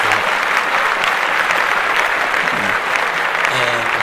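Hearty clapping from podcast hosts in a studio, a brisk, continuous burst of applause with faint background voices mixed in.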